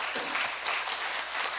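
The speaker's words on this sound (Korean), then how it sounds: "저 목동의 지구촌교회까지 들릴 수 있도록 한번 박수해 주시면 어떨까요?" Congregation applause during a Korean church worship service, a steady dense wash of clapping from many hands that holds throughout at moderate loudness, with no speech over it.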